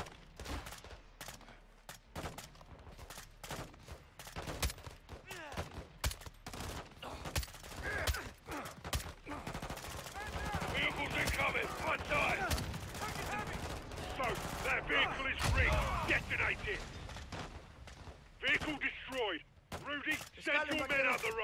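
Modern Warfare 2 campaign cover fire, rapid gun bursts and scattered shots rattling fairly close, mixed with game voices and radio chatter throughout.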